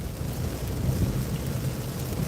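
Rain drums on a car windshield during a stormy drive, a steady, close wash of drops with low rumbling underneath; no distinct wiper strokes stand out.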